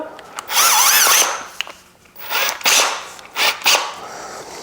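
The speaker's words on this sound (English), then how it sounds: "The 3M wheel here, gonna go ahead and add it to our drill." A power drill fitted with a 3M adhesive removal wheel whirs in short bursts, spinning up loudly for about a second, pausing, then running again in a few quick pulses with a grinding, rubbing edge.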